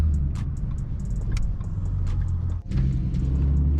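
A Ford Mustang with a 3.7L V6 engine revs aggressively outdoors in winter, a loud close deep rumble that rises and falls, with a brief dip partway through.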